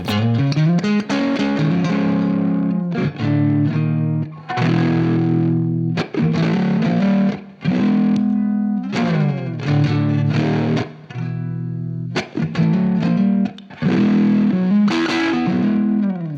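Loud fuzz-distorted electric guitar playing chunky chords and riffs in bursts, with short pauses between phrases.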